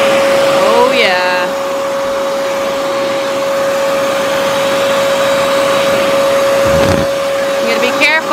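Vacuum sucking up cucumber beetles among garden plants, a loud close steady motor whine with a strong constant tone throughout, briefly changing pitch as debris is drawn in, with people talking over it.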